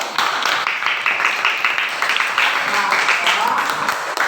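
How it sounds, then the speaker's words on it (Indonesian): A classroom of schoolchildren clapping for a classmate, a steady patter of many small hands that runs for several seconds, close and lively, with faint voices mixed in. "Tepuk tangan untuk teman kita"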